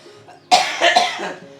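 A single sharp cough bursts out near and loud after a quiet moment, followed by a short throat-clearing rasp that fades away.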